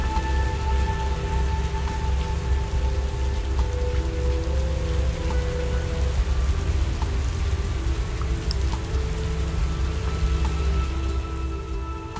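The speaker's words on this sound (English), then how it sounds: "It rained and it poured." Heavy African downpour in a visual novel game, a dense steady roar of rain hammering surfaces with scattered droplet patter, loud and continuous throughout, with faint low rumbles beneath and no voices.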